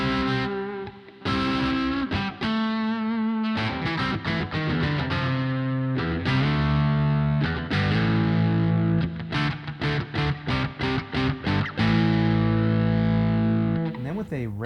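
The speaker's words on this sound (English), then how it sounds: "If we turn on a tube screamer," A Harley Benton DC Junior electric guitar played through a tube screamer overdrive pedal, ringing out sustained overdriven chords interleaved with choppy staccato strums and short riffs, loud and close for the whole stretch.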